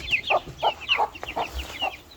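Roosters of mixed Japanese and Madagascar breeding crow and cluck in a repeated series of short, fairly close calls, with no talk.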